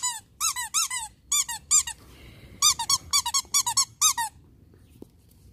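A squeaky toy squeezed by a tiger gives rapid bursts of high-pitched squeaks, several quick clusters with a short pause in the middle, loud and close before falling silent.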